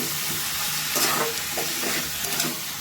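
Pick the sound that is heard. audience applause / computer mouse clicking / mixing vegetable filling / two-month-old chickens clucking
mixing vegetable filling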